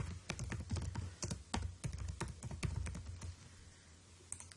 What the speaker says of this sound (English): go ahead and type in the name of the company